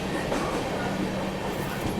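Indian express train passing on a parallel track while riding aboard the Mumbai–Nagpur Duronto: a loud, steady rushing rumble of wheels and carriages filling the whole stretch, heard from inside the moving train.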